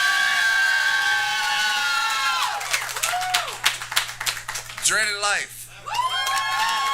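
A comedy-showdown audience cheers, whoops and claps for a comedian, a loud crowd swell that thins into scattered claps and shouts while a host speaks over it.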